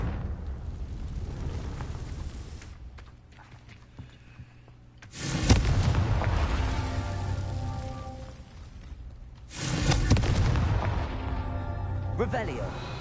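Confringo fire spell blasts in Hogwarts Legacy: two heavy booming explosions, each with a sharp onset and a long rumbling decay, set over quieter game ambience.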